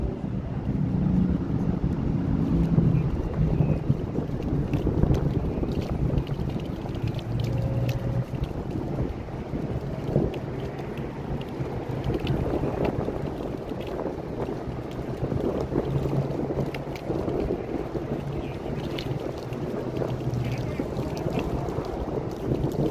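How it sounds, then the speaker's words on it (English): Strong wind roars steadily high on a freeway bridge near Edinger east of Beach Blvd in Huntington Beach, a continuous loud buffeting rush against the microphone that lasts throughout, with distant traffic rumble underneath. "it's real windy up here."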